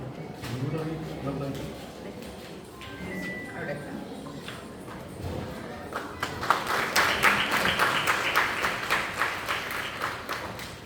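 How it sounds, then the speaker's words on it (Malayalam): Audience applause at a school event honouring a teacher, breaking out partway through as a burst of close, rhythmic clapping after someone speaks over a public address. "കൈയടിക്കണം കേട്ടോ."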